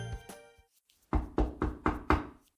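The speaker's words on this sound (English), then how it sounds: "I hear a knock at the door" Five firm knocks on a door come in an even rhythm, close and clear, after a few softer bumps and a brief pause.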